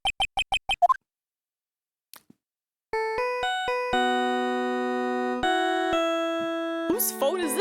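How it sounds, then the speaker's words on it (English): A cell phone ringtone from the courtroom video game Phoenix Wright: Ace Attorney plays as a bright electronic melody of sustained synth tones after a few quick blips, loud and clear with no talk over it. "What kind of ringtone is that?"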